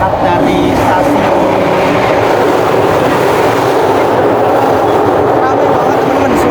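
Inside the Airlangga train from Surabaya to Jakarta, just after leaving the station: a loud, steady rumble and roar of the running train fills the carriage without a break.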